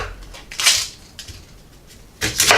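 A knife chops through the end of an onion on a cutting board in a home kitchen, giving a few sharp, close cuts with quiet pauses between them.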